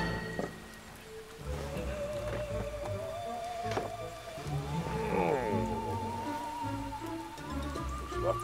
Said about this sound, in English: Looks like it's starting to rain.